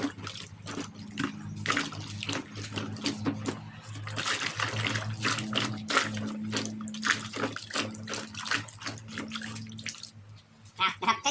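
Water stirred and sloshed around in a sugarcane bio-fermentation tank, a continuous churning splash with irregular surges, moderately loud and close.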